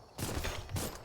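Short burst of video game gunfire, two sharp loud shots about half a second apart, with no talking.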